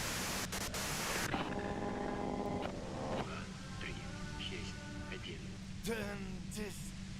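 Radio white noise hissing from the Disco Elysium video game, a steady loud static wash that persists throughout, with tonal game sounds and a brief voice-like burst over it.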